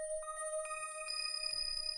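A steady, shimmering synth tone from a Serum aquatic ambience preset rings with soft watery plucks ticking over it in a light, repeating pattern.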